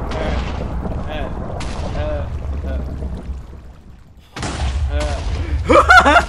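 Rapid bursts of booming blasts fired from a sword in modded Minecraft, loud and repeated, with a person talking over them and a brief lull in the middle.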